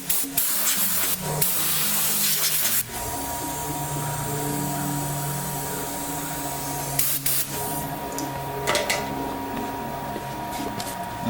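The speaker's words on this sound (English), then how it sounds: "a little more compressed air" Compressed air sprays in steady, loud hissing bursts onto a 20-inch natural-edge pecan bowl during finish turning, with brief gaps and shifts in force as the nozzle moves.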